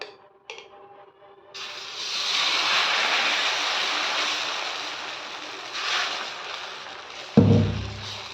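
Adai dosa batter hits a hot griddle. After a few soft clunks, a loud, steady hissing sizzle starts and holds for several seconds, swelling briefly, before a dull thud near the end.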